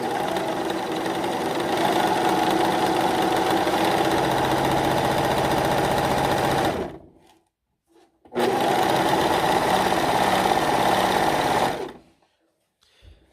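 A Singer S0235 sewing machine stitches a scallop seam on fabric in two long, steady whirring runs close by, separated by a brief pause and ending abruptly.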